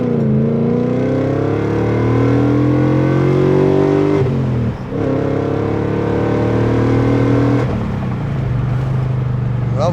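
A BMW E39 540i with a loud, obnoxious engine note being driven, a steady low drone with rising and falling pitch under acceleration and a brief dip mid-drive, heard from inside the car.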